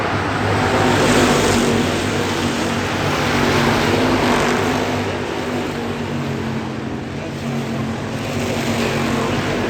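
Hobby stock race cars roar down the first straightaway of a dirt speedway, a steady, loud, continuous engine drone with a broad rumble that swells and eases slightly as the field passes.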